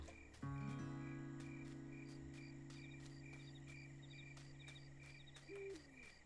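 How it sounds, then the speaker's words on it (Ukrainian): Owl hooting at night in the video game The Sims 4, a short soft hoot near the end over a bed of chirping crickets and other insects, with a sustained tone starting early and no voices. "Там десь сова ухкає."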